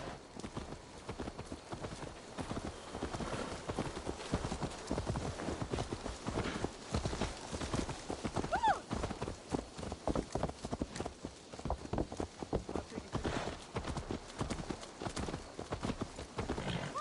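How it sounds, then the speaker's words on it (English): Horse hooves clip-clopping in Assassin's Creed Valhalla, a steady, continuous rhythmic beat of hoof strikes over a faint ambient background, with no pauses. "Let's return the horse."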